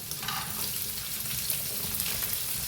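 Onions, curry leaves and green chillies frying in a pan, giving a steady, close sizzle and crackle with no break in the sound.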